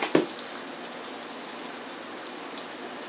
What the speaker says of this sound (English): Who'd have known you could fry turkey